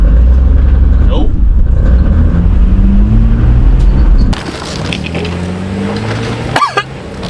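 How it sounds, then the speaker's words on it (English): An old creeper van engine, burning oil and running hot, revs hard in a loud, steady roar while the driver tries for a tire burnout, then the pitch shifts with a brief high whine near the end. "let's see if the old tire will do a burnout"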